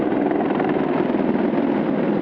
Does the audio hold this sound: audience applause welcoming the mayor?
no